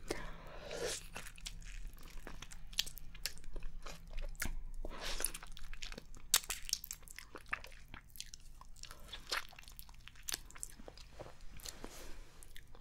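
Close-up chewing and biting of exotic fruit in a mukbang, one sticky, slurpable fruit eaten like an orange: wet, squishy bites and mouth sounds repeating in an irregular rhythm, faint and intimate, with no talking.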